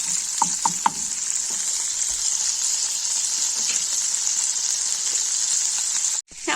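Trimmed bacon sizzles in a pot as the start of a clam chowder, a loud, steady hiss with a few brief stirring clinks early on before a sharp drop near the end.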